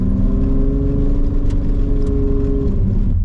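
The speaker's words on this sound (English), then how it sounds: "So far it's idling really good." A VW MK2 with a swapped 12-valve VR6 engine and Techtonics 288 camshafts idles with a steady, loud low rumble throughout, dropping slightly at the very end.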